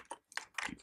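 Quick, light keystrokes tap on a computer keyboard near a Raspberry Pi 4 running Ubuntu, a short close run of clicks with no talk.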